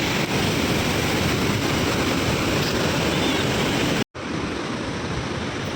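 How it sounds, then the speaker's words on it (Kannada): Loud, steady roar of rushing water at Godchinmalki waterfalls near Belagavi, a dense continuous wash of sound close by that drops out for a split second before resuming. "ಭಾಳ ನೀರಿನ ಸೌಂಡ್ ಇಲ್ಲಿ ಭಾಳ ಐತಿ"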